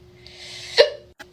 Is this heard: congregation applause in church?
no